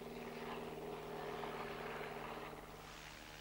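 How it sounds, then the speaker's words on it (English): A propeller aeroplane gathers speed for takeoff, its engine drone steady and loud with a strong tonal hum throughout, easing slightly toward the end. "The aeroplane moves forwards."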